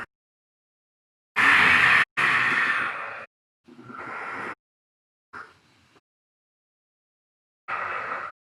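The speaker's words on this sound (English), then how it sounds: "breathe through your nostrils while you're squeezing" Nasal breathing against a tightened throat comes in long, forceful rasping breaths, two close together then shorter, fainter ones, separated by silence, close and alone.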